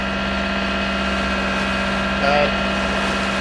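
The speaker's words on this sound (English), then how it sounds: "So I guess we've had the engine running for about 5 hours" Engine of a cruising sailing yacht motoring at sea from the BVIs toward Bermuda, a steady humming drone throughout with a faint brief tone rising over it near the end.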